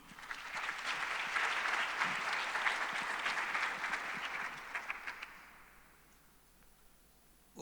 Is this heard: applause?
yes